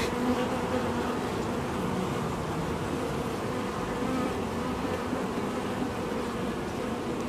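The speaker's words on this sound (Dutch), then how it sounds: "Jezus, wat een bijen, man." A dense, continuous buzz of many honey bees swarming around an open beehive, close and steady throughout with no pauses.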